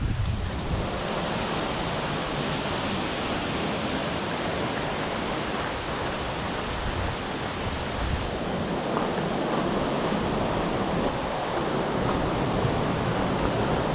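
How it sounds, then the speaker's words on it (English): A waterfall near the Stone Store in Kerikeri, New Zealand, roars steadily, a loud, unbroken rushing wash of falling water that shifts slightly in tone partway through. "The noise of the waterfall here is pretty impressive actually."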